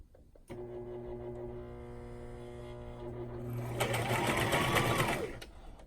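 A sewing machine stitches hair wefts for a wig, starting with a steady whirring motor hum and then speeding into a louder, faster rattling run of stitches close by.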